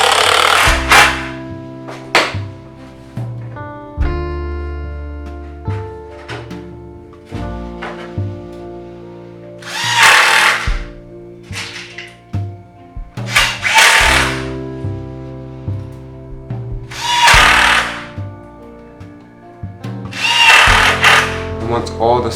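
A power drill drives 4x30 screws into wooden bed slats in repeated short whirring bursts with pauses between them, close and clear, with a few brief knocks and handling noises in the gaps.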